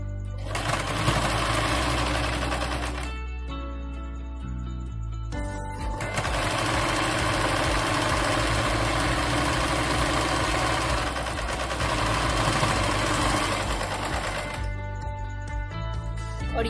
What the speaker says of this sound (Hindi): अब इसकी सिलाई स्टार्ट करूंगी मैं